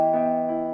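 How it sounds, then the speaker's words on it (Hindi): A single electronic doorbell chime rings at a house door, a clear sustained tone that sounds once and fades slowly, with no voices over it. "ये तो डोर बेल की आवाज है"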